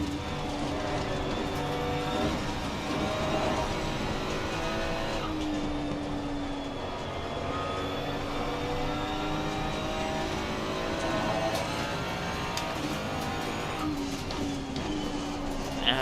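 Bentley and McLaren GT3 race cars running side by side in an Assetto Corsa Competizione race, engine drone steady and loud throughout with shifting pitch lines, no talking.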